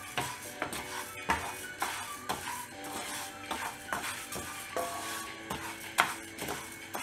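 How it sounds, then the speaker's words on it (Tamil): Moong dal dry-roasts in a heated pan, the lentils rattling and a spatula scraping and clinking against the metal in irregular strokes, quiet and close, with no speech. "பான் ஹீட் ஆன உடனே பாசி பருப்பை இதல ஆட் பண்ணிட்டு நல்லா வறுத்துக்கணும்"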